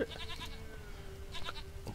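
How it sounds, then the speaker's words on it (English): A goat bleats faintly in The Witcher 3, a few thin, wavering cries over quiet ambient game background. "I hear a goat."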